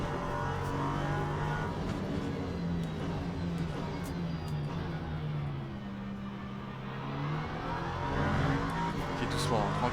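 An LMP3 prototype race car engine in the Le Mans Ultimate racing game, a continuous droning whine that rises and falls with the revs, played fairly quietly with someone talking over it.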